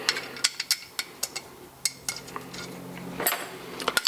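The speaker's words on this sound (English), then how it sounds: "Now I can install the bolts and bolt it together." Bolts being installed and tightened on a pit bike crankshaft, heard as close, scattered metallic clicks, taps and ratchet-like ticks against a faint hum, with no speech.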